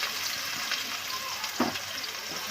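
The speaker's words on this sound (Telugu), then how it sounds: "ఉల్లిగడ్డలు అయితే మంచిగా వేగాలండి." Sliced onions fry in hot oil with cinnamon stick and cloves, giving a continuous close crackle and sizzle with a brief louder spatter midway.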